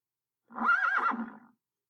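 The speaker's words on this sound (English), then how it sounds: "Henry Horse." A single horse whinny, clear and fairly close, rising and wavering for about a second before fading out, with silence around it.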